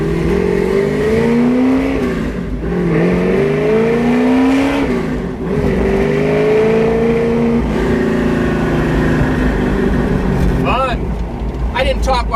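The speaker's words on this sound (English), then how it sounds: "That motor sounds amazing." A 1965 Ford Mustang fastback with a 347 stroker engine, Edelbrock aluminum heads and intake and a Demon carburetor, roars loudly while driving, its exhaust note rising and falling through revs and shifts, steady and close throughout.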